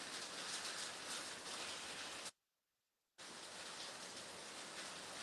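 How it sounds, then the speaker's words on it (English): Steady rain falls outdoors as a dense, even hiss that fills the scene, cutting out abruptly for about a second before resuming at the same level. "that rain is just showering us with blessings"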